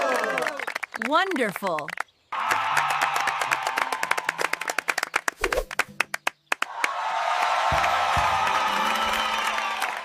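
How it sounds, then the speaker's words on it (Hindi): Cartoon crowd clapping and cheering for a black swan landing on a lake at a contest, with dense applause and whoops swelling loud after a brief pause, a voice speaking over the start. "सब लोग तालियां बजाने लगे।"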